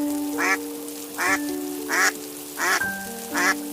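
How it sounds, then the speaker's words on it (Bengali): Cartoon ducks quacking on a stormy night at a farm, five evenly spaced nasal quacks over a sustained tonal music bed, clear and close. "হাঁসগুলো তো আওয়াজ করছে কেন?"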